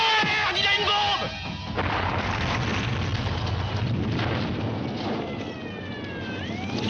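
A loud bomb blast in an action film scene, a heavy rumbling roar that sustains for several seconds after a brief sharp onset, with a fading whine near the end.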